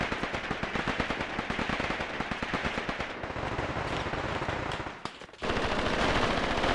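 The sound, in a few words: MP40 submachine gun fire in the Graviteam Tactics video game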